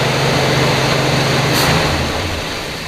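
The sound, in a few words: 1966 Ford Galaxie 500 engine idling at 1750 RPM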